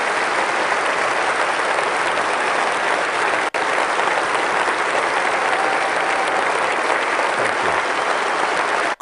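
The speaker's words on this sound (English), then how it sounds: "Crikey, that's the biggest applause he's got yet." Loud, sustained applause from a large political party conference audience fills the whole stretch, dense and continuous with no break.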